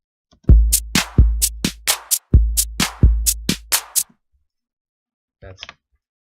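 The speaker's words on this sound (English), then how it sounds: "this pattern is drum synth, and it sounds like this." A synthesized drum pattern plays alone: punchy low kicks and sharp clicky hits in a quick rhythmic sequence, then a brief faint trailing sound.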